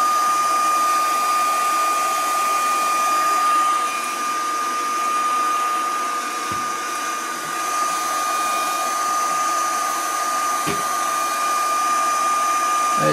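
A heat gun heats a metal plate on a 2006 Audi A3 during rear control arm replacement, blowing with a loud, steady whirring roar and a constant high whine, with a couple of faint clicks and no talk.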